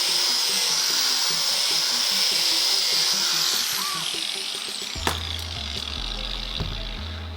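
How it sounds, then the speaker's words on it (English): A wire wheel on an angle grinder is cleaning metal on a custom winch cradle for an 80 Series vehicle. It gives a steady, high-pitched whine for about five seconds, then drops to a lower hum with a sharp clack. "Hit it with the wire wheel on the grinder, and it's looking good."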